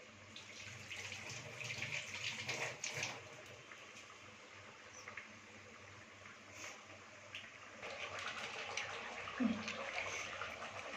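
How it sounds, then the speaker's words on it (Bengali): Water is added to a simmering pot of chital fish curry, a steady wash of running and pouring that holds throughout, with a brief splash and a swell in the later part. "তার মধ্যে আর একটু জল দিয়ে দিলাম।"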